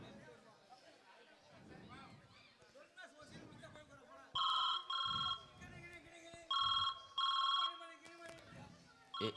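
A telephone rings in a loud repeated electronic double trill, two pairs of rings, over background chatter and voices in a Tamil setting.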